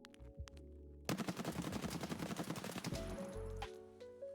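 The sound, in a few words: gunfire from a 7.62 MDR lightweight rifle in a video game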